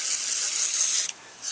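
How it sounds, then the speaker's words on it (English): Cleaning agent hisses from a spray bottle onto a muddy nitro RC car in one continuous close burst lasting about a second, cutting off abruptly, followed by a brief second spritz. "spray that off a little bit, we'll see how that comes when I wipe"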